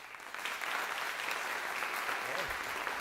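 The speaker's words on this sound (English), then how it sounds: "we give him a round of applause." A conference audience applauds steadily throughout, a dense, even patter of many hands at moderate distance, with a faint voice briefly under it near the end.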